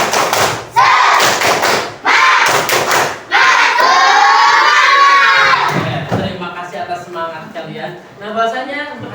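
Schoolchildren in a classroom perform a spirit clap routine, chanting and shouting together with sharp rhythmic claps and thumps, loud and close, pausing between bursts.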